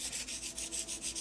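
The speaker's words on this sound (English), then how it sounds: "Fresh sandpaper really makes a big difference too." Rhythmic back-and-forth strokes of 150 grit sandpaper scrub over a car wheel rim, about eight even rubbing passes in quick succession, close and fairly quiet with no talk.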